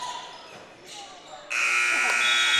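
Buzzer at a high school basketball game between Elliott County and Menifee County, sounding the end of the first half in Frenchburg. A sustained, loud electronic tone kicks in after a stretch of crowd and gym noise and continues to the end.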